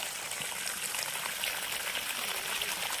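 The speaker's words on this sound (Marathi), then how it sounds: "स्टील बॉडीचं पडतं पाणी." Water gushes out of a steel-bodied pump outlet in a steady, continuous rushing stream, loud and close, splashing without pause and with no voices.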